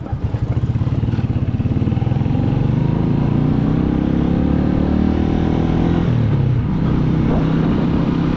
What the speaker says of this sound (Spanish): Estamos rolando en moto en Aquil.